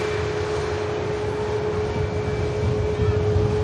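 Finnair airliner departing Manchester Airport for Helsinki, a steady loud jet roar with a constant tonal whine, building slightly toward the end with no other sounds over it.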